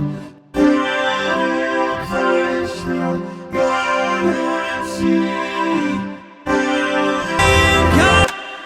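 Singing vocal run through a vocoder, giving a robotic, harmonically stacked voice in phrases separated by short gaps, loud and upfront in a Christmas stage production mix.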